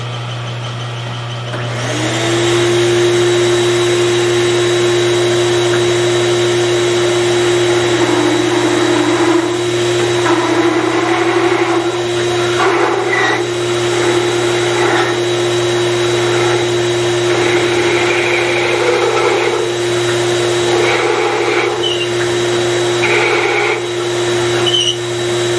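Bowling ball being drilled for a Radical Bowling "The Spy" layout, about 3.75 inches deep: a loud, steady high-pitched motor whine starts after two seconds and runs unbroken, with shifting grinding and cutting noise.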